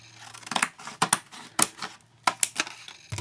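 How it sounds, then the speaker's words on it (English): Scissors snip flaps off thin cereal-box cardboard, a series of sharp, close crisp cuts in irregular bursts with brief pauses between, no talking. "I cut these little flaps off so I can use for my 1-inch circles"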